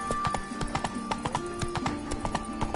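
Hooves of the horse Roach in The Witcher 3 clip-clop in a brisk trotting rhythm, close and steady, over a humming game music bed with no speech.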